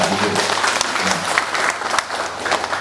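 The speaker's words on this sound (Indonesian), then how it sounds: "Untuk itu aplaus kepada Pak Bu dan Ketua BPD." An audience at a village SDGs meeting in Sumber Kulon, Majalengka claps for village officials, a dense burst of steady applause from a nearby crowd that carries through the whole moment.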